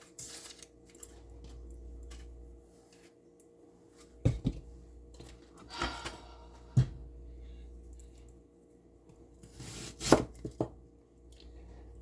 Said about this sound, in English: I'll just chop this and come back.